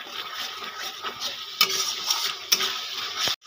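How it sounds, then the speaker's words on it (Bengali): Crab curry masala being stirred in a pan, giving a steady close scraping and sizzling texture with a couple of sharper knocks of the spoon against the pan, and no talking. "নেড়ে চেড়ে নেব।"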